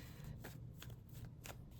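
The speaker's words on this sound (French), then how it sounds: "On va tirer encore quelques cartes" Tarot cards are shuffled and drawn by hand in several quick riffling bursts of papery flicks, close and fairly quiet, with no voice over them.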